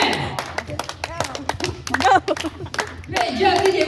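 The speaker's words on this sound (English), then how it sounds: "Come on, clap your hands." An audience at a park bird show clapping hands for a dancing bird named DJ, sharp scattered claps in an uneven rhythm, close and mixed with a person talking throughout.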